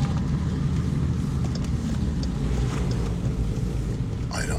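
Aggressive off-road tires on a new car drone steadily while driving, a loud, constant low hum mixed with wind noise, with no break throughout.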